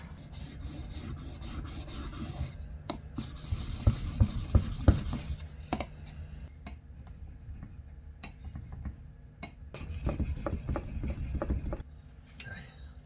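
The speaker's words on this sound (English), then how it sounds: "I just realized I need to sharpen my chisel as well." A woodworking chisel rubbed back and forth on a sharpening surface, producing repeated close raspy strokes in steady bursts with brief pauses between passes.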